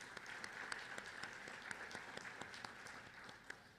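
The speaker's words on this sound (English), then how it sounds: "let's give both universities and other supporters a big round of applause" An audience applauds at a university symposium at North Carolina Central University, with many hands clapping steadily at moderate volume and a few sharper individual claps standing out from the dense patter.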